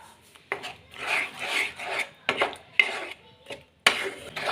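Mushroom masala being stirred in a pan with a spoon, scraping and rubbing strokes up close, in several bursts separated by short pauses.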